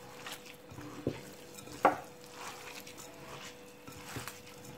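Someone stirs a spice-free filling for stuffed zucchini flowers, making quiet, soft squishing and scraping sounds with a few sharper taps against the bowl.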